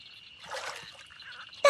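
A short, raspy frog croak sounds over a faint trickle of water, followed by a sudden loud burst at the very end, in a children's cartoon.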